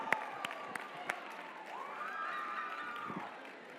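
An audience at a DECA keynote gives a volunteer a round of applause. A few distinct claps open, then faint cheering and a rising whoop sound over a thin crowd murmur.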